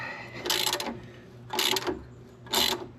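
A wrench on the 14 mm nut of the upper sway bar link on a 2003 Toyota Avalon's rear suspension makes three short, close metallic ratcheting bursts, evenly spaced about a second apart, with no talking.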